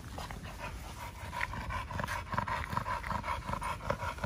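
A large dog pants hard after a walk around a residential complex, quick rhythmic breaths close by that run steadily throughout with no talk.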